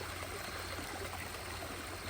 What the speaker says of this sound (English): I did add a second waterfall in over here that you can see.